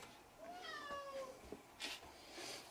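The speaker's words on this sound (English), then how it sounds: "Meow." A cat meows a few times in close succession, rising and falling cries with clear harmonics, fairly near and moderately loud indoors over a quiet soldering workbench.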